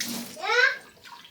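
Water splashes into a bowl of flour and salt for unleavened bread dough, a brief close pour that rises and fades within about a second.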